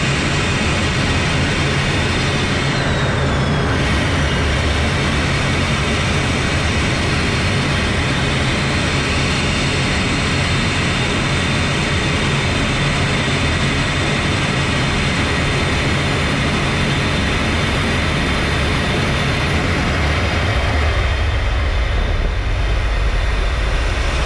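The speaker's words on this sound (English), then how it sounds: "Primo is just showing us the max roll rate of the F-16D" An F-16D fighter jet performs a max-rate roll, heard from inside the cockpit as a loud, steady broadband engine and airflow roar that holds throughout with little change.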